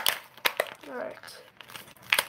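Crinkly plastic foil wrapper of a Pokémon Pikachu Generations booster pack being torn open, a few sharp crackling tears and crinkles up close with brief speech-like bursts mixed in.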